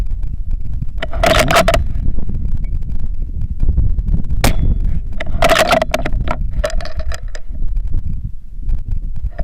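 Several faint, sharp metallic pings from 6.5 Creedmoor bullets striking a distant steel target ring out over steady wind and outdoor rumble, spaced a few seconds apart.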